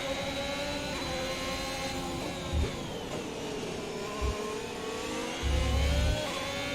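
F1 car engine in the F1 2021 racing game, a continuous high, whining roar with rising and falling pitch as it accelerates and shifts gears, steady and loud, with brief low thumps.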